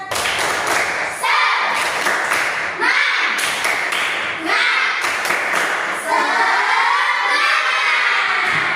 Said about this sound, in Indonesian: mari kita bersama-sama tepuk semangat